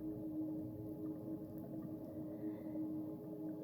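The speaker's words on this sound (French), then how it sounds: "La baleine s'est approchée." Whale calls in a meditation soundscape: a faint, drawn-out tonal call drifts over a steady, low humming drone that carries on without a break and without voices.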